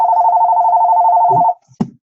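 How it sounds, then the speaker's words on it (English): A telephone rings indoors during a tech talk on viral marketing: a loud, steady warbling electronic ring for about a second and a half, then it cuts off, followed by a couple of faint handling clicks. "Turn this phone off."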